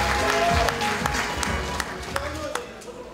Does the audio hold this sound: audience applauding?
yes